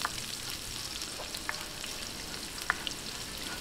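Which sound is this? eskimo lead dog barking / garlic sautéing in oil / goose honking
garlic sautéing in oil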